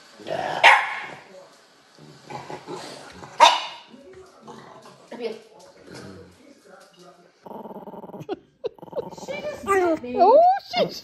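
A dog barks, yips and growls at a television in bursts of varying loudness, with people talking throughout and overlapping the noises.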